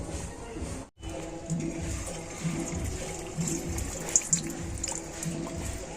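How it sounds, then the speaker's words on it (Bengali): Rice-flake pithas frying in medium-hot oil give a steady, close bubbling hiss with a brief dropout near the start, continuous and without talk. "এই গরম তেলের মধ্যে এখন আমি পিঠেগুলো ভেজে নেব"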